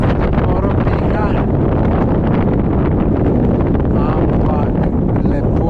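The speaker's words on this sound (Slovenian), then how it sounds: "Noro piha." Strong wind blowing outdoors in Chile, loud and steady, buffeting the microphone with a dense continuous roar for the whole stretch and no clear pauses.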